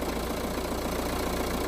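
A diesel car engine idles steadily right after starting, a close, even low rumble with a regular knocking pulse and no talk.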